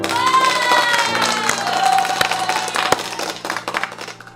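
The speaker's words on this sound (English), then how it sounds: "Let's give him some hand claps." A crowd cheers and shouts with scattered hand claps and sharp claps punctuating the noisy, lively din, continuous over several seconds.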